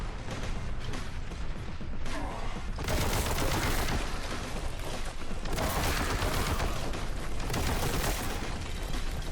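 Dense, nonstop gunfire and explosions from the video game Warhammer 40K: Boltgun, loud rapid bursts layered with heavy booms and no break.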